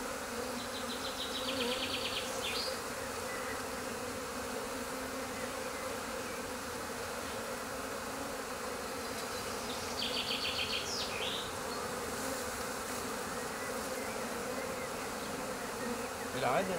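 A swarm of honeybees clustered on a shrub buzzes in a steady, dense drone, close and continuous throughout, with a few faint high chirps drifting over the hum.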